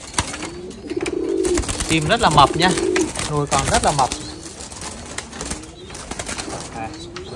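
Pigeons with chicks about 11 to 12 days old coo softly in low repeated calls while a person talks close by over them.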